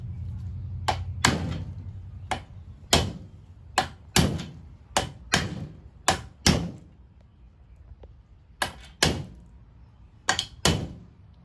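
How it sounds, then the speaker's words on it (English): A hammer strikes a metal roof rack bracket into place on a Toyota 4Runner, about a dozen sharp, close knocks in uneven bursts, each ringing briefly before the next blow. "Then hammer the other end in."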